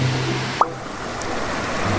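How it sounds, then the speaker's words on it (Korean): Stream water rushes steadily beside a weir where fish traps are set. The broad, loud flow runs unbroken for the whole span, with one brief sharper splash or knock near the middle. "오늘은 물소리가 너무 시끄러우니까"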